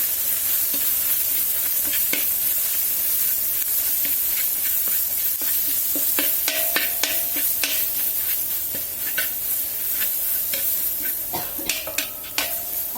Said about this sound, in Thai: ใช้ไฟกลางๆนะคะผัดให้หอมก่อนเลยนะคะ